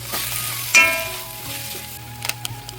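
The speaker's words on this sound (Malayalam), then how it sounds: "ഇനി ഇതെല്ലാം കൂടി ഒന്ന് വഴറ്റിയെടുക്കാം" Soya chunks sautéed in a pan with chilli powder and turmeric: a steady sizzle with a clatter of a spoon near the start and a few light stirring scrapes toward the end.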